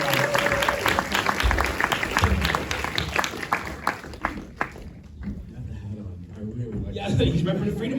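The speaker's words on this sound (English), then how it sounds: "Another round of applause, come on." An audience claps at a film Q&A for Nickel Boys at The Frida Cinema, a burst of dense, close applause that thins out into scattered claps, with voices talking over it.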